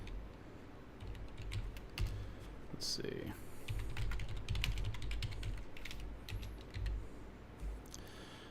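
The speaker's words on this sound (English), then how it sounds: "Excuse the typing sounds." Rapid clicking of computer keys in uneven bursts, close and fairly quiet, with a person briefly murmuring partway through.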